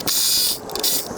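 Ratchet wrench loosening 10 mm bolts from the plastic beauty cover on a Honda engine, a quick clicking burst close by with a brief pause and a second shorter run of clicks.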